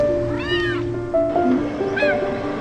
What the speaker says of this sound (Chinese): 小猫咪